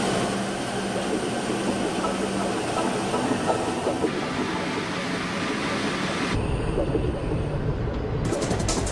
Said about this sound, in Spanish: Los trenes Maglev están siendo probados en Japón, Alemania y en los Estados Unidos.